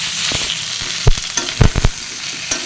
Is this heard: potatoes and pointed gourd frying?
yes